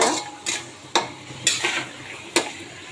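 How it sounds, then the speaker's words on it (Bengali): Meat being sautéed in a pan for a Bengali vegetable dish, with soft frying sizzle under a few sharp spoon scrapes and clanks against the pan, close and steady. "এদিকে মাংসটা কষা হচ্ছে"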